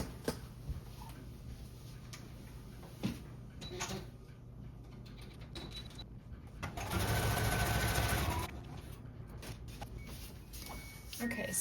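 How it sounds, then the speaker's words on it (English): A sewing machine stitches junk journal paper pages together in a quick, even burst of rapid stitching for about two seconds, surrounded by quieter handling noises and faint room sounds. "I'm going to run over to the sewing machine and sew this together."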